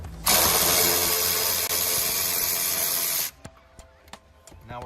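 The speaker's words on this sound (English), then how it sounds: "There's a 10mm nut back here that you're gonna need to remove." A long steady hiss lasts about three seconds, followed by a series of quick ratchet clicks working a 10mm nut loose inside a Toyota Prius.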